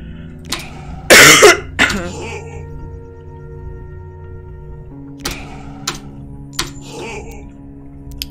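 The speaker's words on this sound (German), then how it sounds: "Sag mal, was habe ich jetzt für einen Hustenreiz?" A person coughs in a loud close burst, followed by a few shorter coughs and throat-clearing sounds spread out over several seconds amid quiet background tones.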